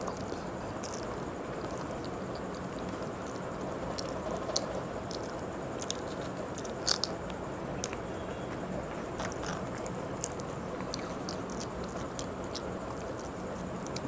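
Close, wet chewing and soft squishing from someone eating khichuri with fried egg and potato chips, a steady run of small mouth sounds with occasional sharper crunchy bites, no talking.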